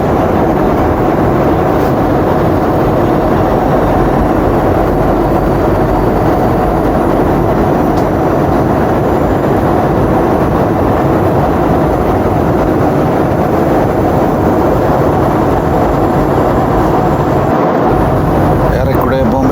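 Steady broadband roar of an airliner cabin as the plane descends toward Mumbai, a constant loud engine drone filling the whole stretch with no talk.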